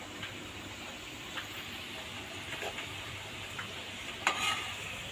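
Medu vada made from a ginger and garlic paste batter fry in hot oil with a soft, steady bubbling sizzle and a few faint crackles, no talk over it.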